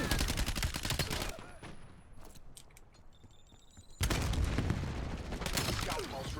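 Rapid bursts of gunfire from the Dravec weapon in Call of Duty Black Ops 7 gameplay crackle in two dense volleys separated by a quieter lull with faint game tones.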